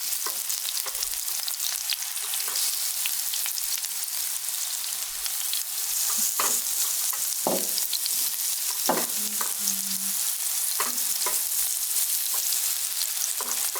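A meatball patty frying in oil makes a continuous crackling sizzle close by, dotted with sharper pops and a few brief clatters from a utensil; no one speaks.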